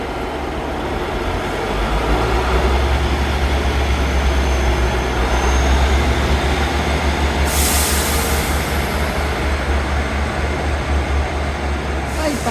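A train pulls out of Newton Abbot station, a loud steady low rumble of engine and rolling wagons building over several seconds, with a brief hiss partway through.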